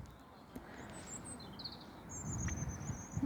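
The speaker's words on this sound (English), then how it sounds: "I'm just hearing the birds singing as I get that message." Birds sing outdoors in a few high, thin chirps and short warbling phrases, faint and fairly distant, over a soft background hum that grows slightly louder toward the end.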